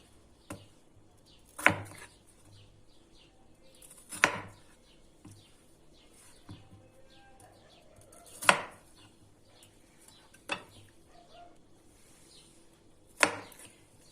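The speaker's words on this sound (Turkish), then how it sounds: "Bu şekilde dilimliyoruz patateslerimizi." Potatoes sliced into wedges on a cutting board: five or six sharp knife thuds spaced a couple of seconds apart, close and clear against a quiet background, with no talking.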